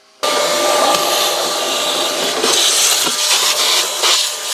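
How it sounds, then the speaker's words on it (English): A vacuum cleaner sucks dust out of the air filter box of a Mercedes CLS 250 CDI Shooting Brake during a service, switching on sharply into a loud, steady hissing roar with slight surges as the nozzle moves. "I like to vacuum clean the box inside before install the new filter."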